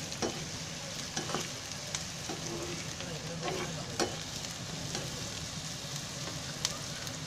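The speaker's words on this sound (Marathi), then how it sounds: "कांदा थोडासा परतून घ्यायचा." Onion sautéing in oil in a pan, a soft steady sizzle broken by repeated light clicks and scrapes of stirring, no talk.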